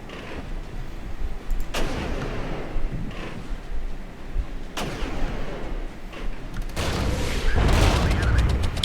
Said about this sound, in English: I got some artillery causing us issues.